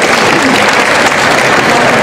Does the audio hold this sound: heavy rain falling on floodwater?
no